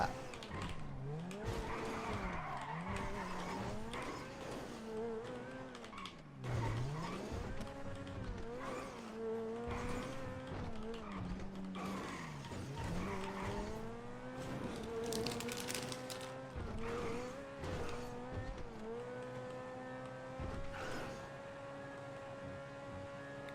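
A car in a driving video game slides and skids, its engine whine rising and falling in sweeping pitch changes over about twenty seconds, with repeated tire squeals and no talk.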